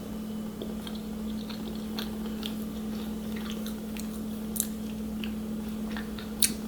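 Someone chews a crusty-edged piece of grain-free focaccia, with soft, scattered bites and crunches close up over a steady low hum.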